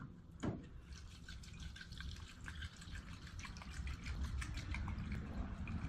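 Coleman white fuel is poured through a funnel into a 1940s brass blowtorch, making a soft continuous trickling gush that grows slightly louder toward the end, heard close and quiet with no talk.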